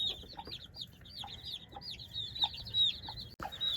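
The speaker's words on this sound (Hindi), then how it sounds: "ये देखें मुर्गी करीब आ रही है" Hens cluck close by in a chicken coop, a run of short repeated calls and squawks rising and falling in bursts, with a brief sharp knock near the end.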